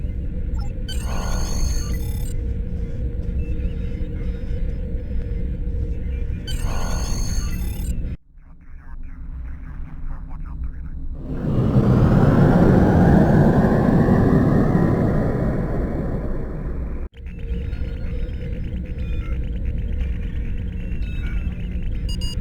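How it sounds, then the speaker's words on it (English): Starship engines in the game Star Trek Online as the ship leaves dry dock at maximum thrusters, low droning hums that build into a loud rushing roar and then cut off, with layered sci-fi effects. "Potter, take us out. Maximum thrusters."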